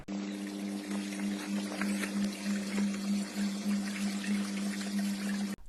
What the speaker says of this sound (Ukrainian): На Сумщині з колодязя замість води потекла нафта.